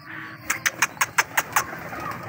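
Pigeons at a feeding spot give a run of seven short, evenly spaced calls, close and clear over a low background hum.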